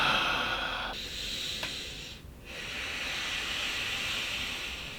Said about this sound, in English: I forgot to sniff these shoes.